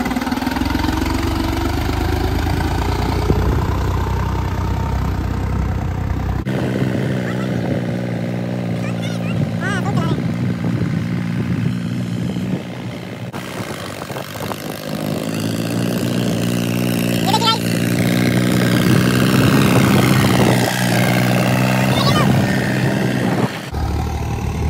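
A tractor engine runs steadily on a road by a canal, its low harmonic drone continuous throughout with a brief cut near the middle, while people talk loudly over it nearby.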